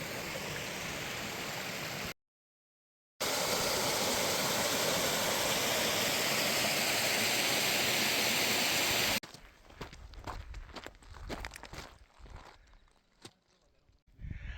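Thielsen Creek rushes with a loud, steady roar beneath Thielsen Peak on the Pacific Crest Trail, broken by a brief cut. Quieter footsteps and scuffing on the trail follow.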